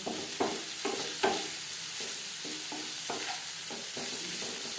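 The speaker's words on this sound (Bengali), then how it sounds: "পেঁয়াজ ও কাঁচা লঙ্কার সাথে বেশ ভালো করে মিক্স করে দেব। পেঁয়াজ লালচে করে ভেজে নেব।" Onions and green chillies frying in a pan, a steady soft sizzle throughout with repeated scraping stir strokes from a spatula at an even rhythm, close and moderately quiet, no voices.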